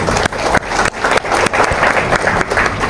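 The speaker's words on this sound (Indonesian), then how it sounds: "Tepuk tangan dong buat Mbak Anies." A live audience at a dialogue event loudly applauds a guest, Mbak Anies. The clapping is close and full, with a few sharp breaks where the sound briefly cuts.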